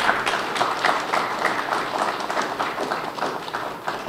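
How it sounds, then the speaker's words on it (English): An audience at a government ministry press retreat applauds, with a steady wash of many hands clapping for the whole stretch at a fairly loud, even level. "Do I have a round of applause for that?"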